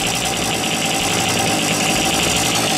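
Cold Romet Ogar 200 motorcycle engine idling after a blip of throttle, a steady close mid-pitched putter with slight knocking and vibration, alone with no talk.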